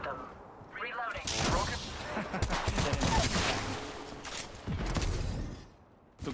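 Rapid bursts of gunfire ring out in a shooter video game, repeated volleys crackling loudly and continuously over several seconds with a brief lull near the end.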